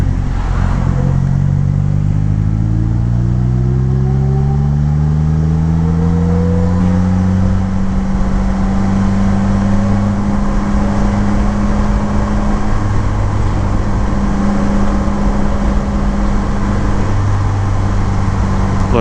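A 2018 Polaris Slingshot LE engine pulls loud and close while driving, revving up through rising tones then settling into a steady drone with shifting pitch.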